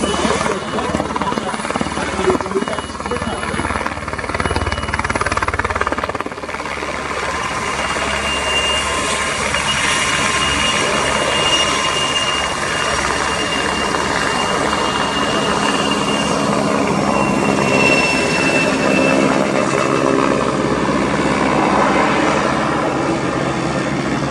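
Two Czech Air Force PZL-Swidnik W3A Sokol helicopters performing a pair display at an air show, a loud continuous rotor and turbine roar holding steady throughout, with a voice talking over it.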